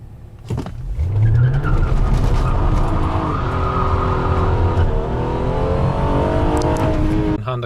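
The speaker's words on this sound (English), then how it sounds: "Honda Accord V6, 0 to 60 and quarter mile, Ktuner Stage 1 with RV6 J-pipe." A 2014 ninth-generation Honda Accord V6 with Ktuner Stage 1 tune and RV6 J-pipe, traction off and sport mode on, launching hard in a 0-60 run: a loud, rising engine roar climbing steadily through the gears with a brief tire chirp at launch.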